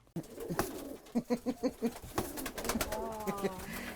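Pigeons coo close by in a rhythmic run of soft, throaty calls, then another quieter bout of cooing follows.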